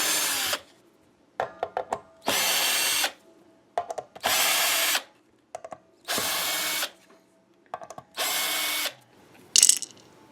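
A power drill whirs in five distinct bursts, each about a second long and steady in pitch, while removing the screws on the back plate of a Kramer Focus VT-211S guitar. Brief clicks and handling knocks come between the bursts, with no talking.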